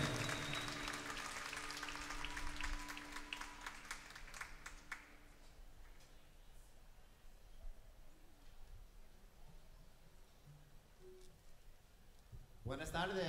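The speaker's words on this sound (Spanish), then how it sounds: "Fuerte el aplauso para el padre Patrick" A large concert audience at the Los Angeles Convention Center claps and cheers loudly for a few seconds, then the ovation fades into a quiet room murmur, with a brief burst of noise near the end.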